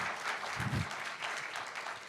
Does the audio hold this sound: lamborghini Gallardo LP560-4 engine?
no